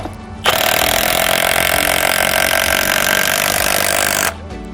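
A compact impact wrench drives a lag bolt, giving a loud, steady, buzzing burst that runs for about four seconds and then cuts off, with no talking over it.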